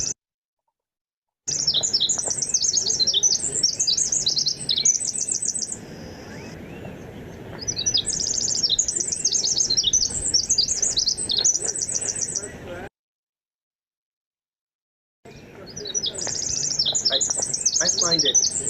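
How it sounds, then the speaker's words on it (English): A Pacific wren sings long, complex, rapid trills and tumbling high twittering phrases, loud and close, in two extended bursts separated by a few seconds of silence. "listen to the Pacific wren, because it's a tiny,"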